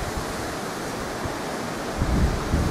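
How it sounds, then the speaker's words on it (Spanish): A strong wind blows outdoors, a constant roaring rush of broadband noise buffeting the microphone, swelling into heavier low gusts near the end, with no voices. "vean el viento que está haciendo. Es un viento bien fuerte"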